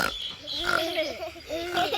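Pigs in a children's story oink and grunt in a rough, repeated series, fairly close and moderately loud, with a voice-like harmonic quality that may be a person imitating them.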